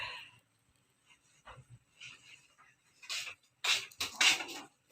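A dog barks noisily from a short distance off near a home kitchen, a few sharp barks building into louder rapid bursts toward the end, with faint household sounds in between.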